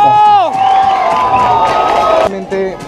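A crowd at a party cheers and whoops loudly for the firefighter who saved the celebration after the Cantoya balloons, a sustained raucous roar with shouting voices and some clapping mixed in.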